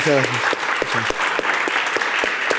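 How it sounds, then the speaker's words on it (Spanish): Applause fills a small café venue after a flamenco talk, a steady, close crowd of clapping hands, with a brief spoken voice near the start layered over it. "Un fuerte aplauso."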